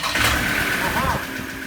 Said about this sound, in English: Next, we connect the battery and start the engine.